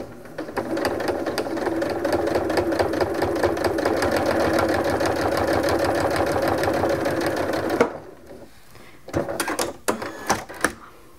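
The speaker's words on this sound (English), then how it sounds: "So I'm just going to start stitching here with a quarter inch seam." A sewing machine stitches a quarter-inch seam through a small quilt-as-you-go mug rug, running in a fast steady whirr for about eight seconds, then stopping, followed by a few short clicks and handling sounds.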